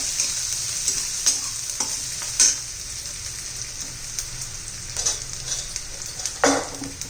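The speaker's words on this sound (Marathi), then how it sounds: "हे बघ कांदा आणि गाजर झालेले आपलं चांगलं परतून" Onion and carrot sauté in a hot pan for a leftover bhakri chivda, with a bright continuous sizzle and a utensil stirring and scraping at irregular intervals.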